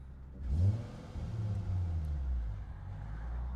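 A Toyota Supra's boosted engine revs sharply up close, then settles into a sustained, throaty rumble that holds steady.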